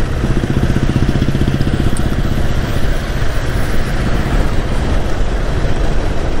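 A motorcycle engine runs at a steady idle close by, with a loud, even low rumble and a regular throbbing pulse that continues throughout with no talking.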